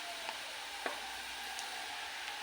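Masala spices and browned onion fry in a pan at home, a faint, steady low sizzle with a few soft clicks of stirring, quiet and without talk.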